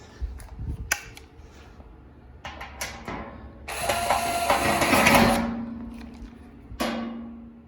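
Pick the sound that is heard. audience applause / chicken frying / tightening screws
tightening screws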